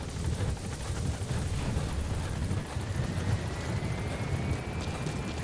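A support helicopter in the video game Metal Gear Solid V: The Phantom Pain gives a steady, fairly quiet rotor and engine drone that holds throughout, with no voices over it.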